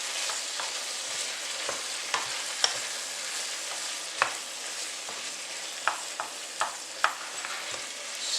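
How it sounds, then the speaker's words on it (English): Chickpeas in a stew pot are stirred with a spoon over a constant simmering hiss, irregular scraping clicks and knocks against the pot surfacing every second or so, close-up with no talking. "Our chickpeas. Give that a nice stir."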